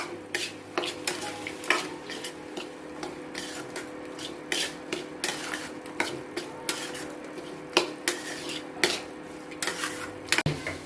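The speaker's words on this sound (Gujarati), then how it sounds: "એક ચમચી જીરું પાવડર અડધીથી ઓછી ચમચી જેટલો ગરમ મસાલો નાખી અને મસાલાને હવે આવી રીતે એક મિનિટ માટે પકાવશું" A spoon stirs cumin powder and garam masala in a pan, scraping and clinking in a steady, repeated rhythm over a soft, continuous sizzle, with no one talking.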